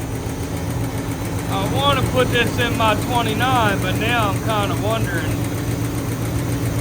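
A Crown Victoria engine swapped into a 1960 panel truck idles steadily with a chatter and weak oil pressure, a low continuous rumble heard close, while someone talks over it.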